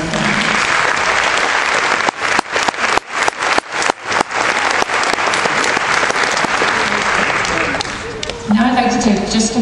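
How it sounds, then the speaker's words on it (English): A large graduation ceremony audience at Cox College claps in sustained, dense applause for the graduates' families, loud and steady, briefly punctuated by a few sharp separate claps before rolling on, with a voice starting up at the end. "invite everyone to join me in a round of applause for the families"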